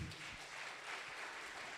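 Brief burst of applause from a church congregation during a special worship service, a steady even patter of many hands clapping throughout the short moment.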